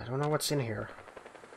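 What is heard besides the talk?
gunfire in the Fallout 4 video game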